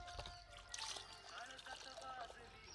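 Spring water trickles and splashes into a bottle held among stones in a forest village, a soft continuous pouring with faint background noise.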